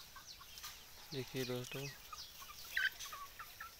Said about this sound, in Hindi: आज ये मुर्गियाँ लमसम 80 दिन के आसपास की हो गई हैं सब।